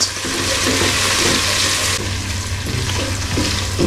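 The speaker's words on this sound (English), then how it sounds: "we add in our teaspoon of tom yum paste. And again, just cook that through for about a minute." Tom yum paste sizzles and fries in a pot for a soup, a steady close hiss with faint stirring underneath and no talking.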